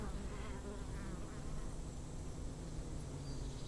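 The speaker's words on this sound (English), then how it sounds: "They are just buzzing and doing their thing, bringing in pollen and getting ready for the winter." A thick, constant drone of many honey bees buzzing close around the hives, steady and unbroken throughout.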